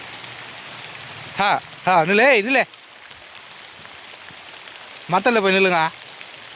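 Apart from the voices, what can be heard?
heavy rain falling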